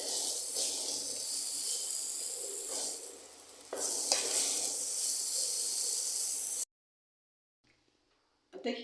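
Taro leaf (aloo) vegetable sautés with chili powder in a pan, giving a close, hissing sizzle with stirring scrapes in two bursts before the sound cuts to near silence.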